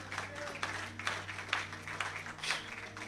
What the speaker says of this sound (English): come on, give the Lord a big clap.